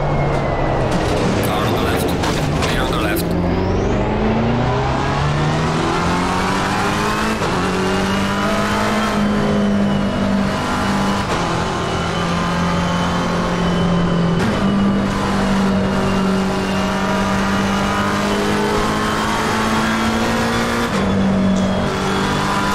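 A race car engine screams around the Zolder circuit in Assetto Corsa Competizione, loud and continuous, revving up through gears with pitch rising and dropping at each shift, while someone talks over it.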